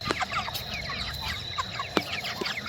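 Several broiler chickens cluck and cheep close by, a busy overlapping chatter of short calls with no talking.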